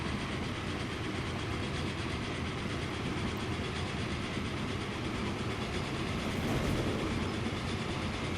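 Trains running on a curvy track in the Transport Fever video game, a continuous loud rolling rumble with faint clickety-clack, steady throughout with no speech.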